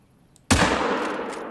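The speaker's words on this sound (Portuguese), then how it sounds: "Tiro dado, tiro acertado." A single loud, sharp .45-70 rifle gunshot in the hunting game theHunter: Call of the Wild cracks after a brief quiet, its blast rolling off into a long echoing tail.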